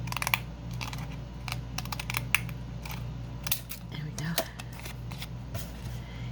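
Scissors cut through fabric for a belly band in a run of sharp, close snips and crisp slicing strokes, repeating irregularly over a low steady background hum.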